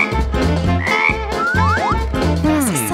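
A frog croaks in a playful challenge game, giving a few loud, close, boinging and warbling croaks with rising and falling pitch, several in quick succession, heard alone.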